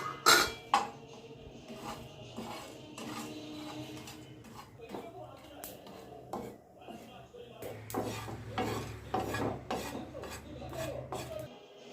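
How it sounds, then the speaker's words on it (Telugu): Whole spices such as cloves, star anise and cumin are dry-roasted in a pan, with soft scraping and rasping of a utensil stirring against the pan and occasional clinks, close and fairly quiet, under intermittent talk. "సో అన్నీ వేసిన తర్వాత లైట్గా దోరగా వేయించుకోవాలి."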